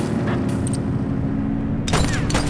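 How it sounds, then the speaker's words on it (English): Gunfire in the police video game The Precinct, a short burst of sharp cracks near the start and another cluster toward the end over a low rumbling city and car background. "is that gunfire?"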